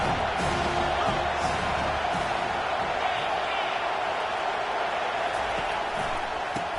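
A stadium crowd in an American football video game roars and cheers in a loud, steady wash of noise that runs the whole time, with a voice talking over it.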